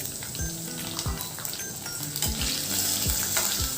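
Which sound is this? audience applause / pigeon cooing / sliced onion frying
sliced onion frying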